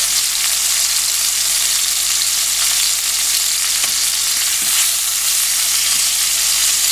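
Chicken pieces and bacon browning in a hot pan give off a steady, dense sizzle and crackle with a few sharper pops. It holds constant throughout, close and loud, with no voices.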